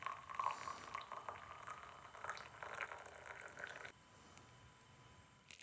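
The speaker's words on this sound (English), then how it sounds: "Now bring this back to boil and pour it off." Coffee boiling in a pot, a soft bubbling and hissing with faint liquid sounds that fades slightly toward the end, with no talk over it.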